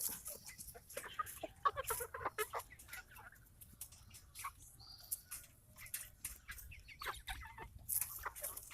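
Meat chickens, not Cornish crosses, cluck and chatter in a roomy pen, a busy flock of irregular clucks and scratchy movement close by, moderately quiet with no talking.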